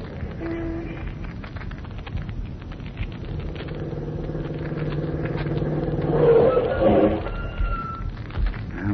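A car engine rumbles and drives along as a sound effect in an old-time radio drama, a steady low motor drone that swells louder toward the end, with no talk over it.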